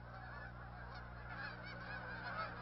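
Migrating geese honk continuously at a distance, a steady flock chorus with overlapping calls and no talk over it, gathered around spilled corn on the ground at a wildlife refuge.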